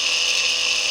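Small DC motor spinning at speed, a steady high-pitched whine with a faint rattling buzz, close and constant for a brief moment.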